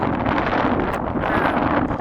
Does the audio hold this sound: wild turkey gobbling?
no